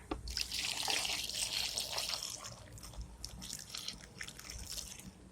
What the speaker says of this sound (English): and then we're going to add the water.